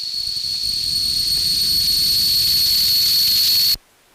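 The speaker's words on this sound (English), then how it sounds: "Like a tea kettle that just turns into nasty distortion." A harsh, piercing synthesized drum sound from a Teenage Engineering PO-32 Tonic Pocket Operator, like a whistling kettle, grinding with distortion and hiss, held loudly for several seconds before cutting off abruptly.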